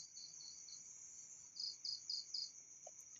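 Steady night-time cricket chirping, a constant high trill with a few louder pulsed bursts in the middle, nothing else around.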